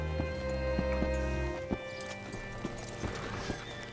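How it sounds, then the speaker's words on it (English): A horse in the Red Dead Redemption 2 video game clip-clops at a walk with a short whinny, hoofbeats landing in a steady, fairly close rhythm against a low background hum. "Hitch your horse up here."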